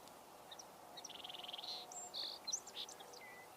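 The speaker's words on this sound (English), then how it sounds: "I believe I just heard a cardinal, by the way." Birdsong outdoors beside a car, reported as a northern cardinal: a run of quick repeated chirps followed by several louder whistled notes, fairly near and clear over a faint steady background hiss.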